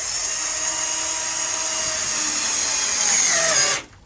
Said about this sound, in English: I'm going to start my first screw.